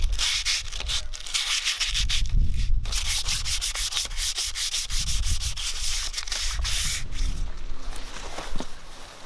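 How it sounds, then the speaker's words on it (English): Light sanding by hand to remove surface rust from a cast-iron log burner outdoors, with a repeated rough, rasping scrub and brief pauses between strokes. "I've decided to continue the sanding outside"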